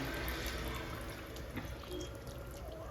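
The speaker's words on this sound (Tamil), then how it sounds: "இப்போ இதில் நம்ம புளி தண்ணி சேர்த்துக்கலாம்." Tamarind water is poured into a simmering banana flower dumpling curry: a steady, close liquid pour and splash with light dripping, continuous for a few seconds with no talking.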